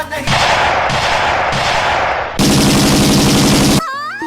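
Gunfire rings out in a film scene: several loud bursts of rapid shots, first in short runs and then one long sustained volley, ending abruptly.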